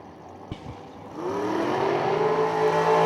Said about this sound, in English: Here we go. Our top dragster final round.